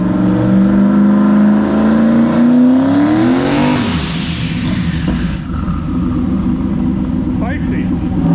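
An El Toro car with a big turbo accelerates hard, the engine note climbing steeply in pitch, then shifting and roaring on loudly up close.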